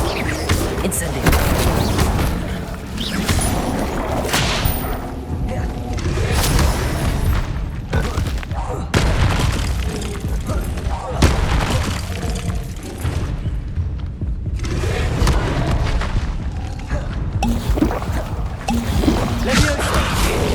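Rapid Incendio fire spells cast in Hogwarts Legacy combat, a dense, loud stream of whooshing bursts and thuds over a busy game soundscape, with a voice occasionally calling out.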